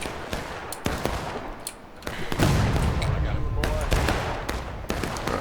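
Musket volleys in the Civil War video game War of Rights, a string of sharp cracks and rolling overlapping shots, some near and some distant, under constant talking.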